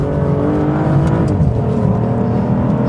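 Aston Martin DBS Volante driving hard on a track, a loud close engine drone with shifting revs and a steady rush of motion.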